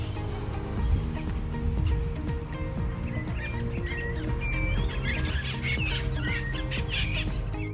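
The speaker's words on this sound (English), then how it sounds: "There are also lots of green parrots in the trees." Green parrots chirp and call in the trees of a small park in La Fortuna, Costa Rica, with scattered high calls over a steady low hum of background noise.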